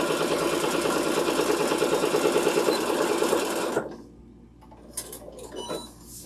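A sewing machine back-stitches quilted patchwork panels, running loud and steady close up for nearly four seconds before stopping, followed by quieter handling sounds.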